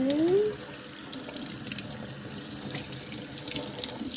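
Water runs steadily from a tap into a draining sink, a constant hiss and splash following a short rising tone at the start, close and fairly quiet.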